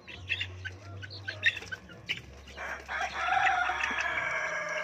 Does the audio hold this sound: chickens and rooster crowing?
yes